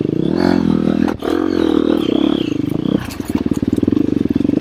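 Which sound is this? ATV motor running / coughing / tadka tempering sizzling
ATV motor running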